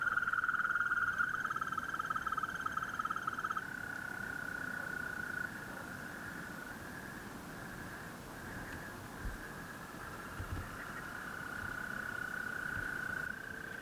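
Green toads trill from a gravel pit near Strasbourg, with long, high, purring calls that overlap at first, then pause and return, over a faint windy background.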